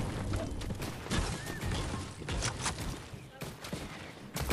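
Bursts of rapid gunfire crackle through a noisy video game soundscape, with scattered impacts and brief pauses between volleys.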